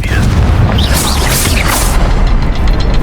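Confringo blast spell in the Hogwarts Legacy video game, a dense rumbling boom layered under game music and ambience, loud and sustained across the clip with bursts of fiery crackle.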